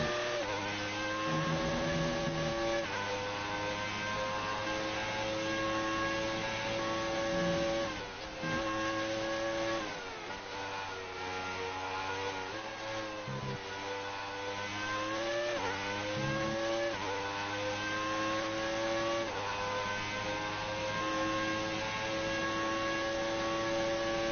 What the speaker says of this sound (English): Turning up the engine once again for the final 2 laps.